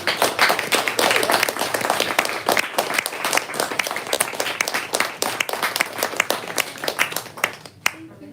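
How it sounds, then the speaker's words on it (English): Sustained audience applause after a poetry reading at a bookstore, dense clapping from a room of listeners lasting several seconds before tapering off abruptly near the end. "let's give one more round of applause to Kerry."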